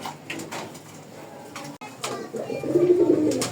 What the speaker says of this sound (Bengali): একদম অরিজিনালি পুরান জাতের গোল্লা কবুতর। যারা কক কক করে ডাকে এই জোড়াটা নিতে পারেন।